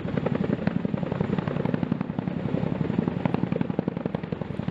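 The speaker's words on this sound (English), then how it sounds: "Such maneuvers also require a larger helicopter, such as the CH-47 Chinook." A CH-47 Chinook twin-rotor helicopter flies overhead, its rotor chop a steady, loud, rapid thudding that fills the whole stretch with no voices.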